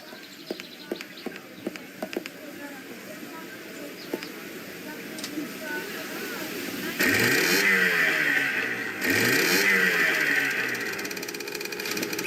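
A small motorboat engine on filthy water in Secret Files 2 starts after light clicks and knocks, then runs loud and steady in two long bursts with a brief dip between.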